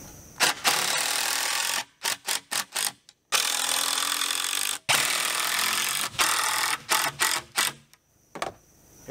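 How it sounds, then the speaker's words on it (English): A power drill drives screws into bent wooden fence boards for deck stairs, with several long buzzing runs broken by short bursts and pauses as each screw seats, close and loud. "These deck boards, fence boards rather, are really bent, so I'm going to be using screws to hold them together."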